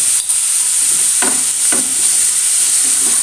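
Onions sautéing with salt in a pan, a steady close sizzle with two or three soft scraping strokes of a spoon, no voices.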